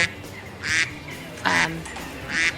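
Ducks by a canal in Delft, three loud nasal quacks spaced about a second apart, close by over a soft outdoor background.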